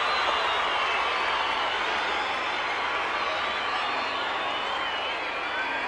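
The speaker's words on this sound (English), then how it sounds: "And listen to that crowd." A large cricket crowd in a stadium during an India versus Australia Test match at Brisbane, a steady roar of applause and cheering that fills the whole stretch without break.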